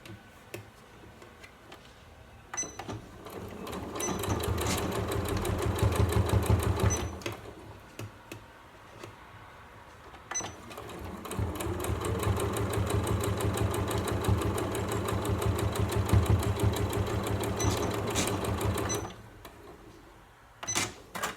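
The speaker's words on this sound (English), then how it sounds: "you can put it back under your machine and just top stitch it" A sewing machine top stitches the lining of a felt-lined fabric storage caddy, running in two long bursts of steady, rapid mechanical ticking close by, with short pauses and brief handling noises between them.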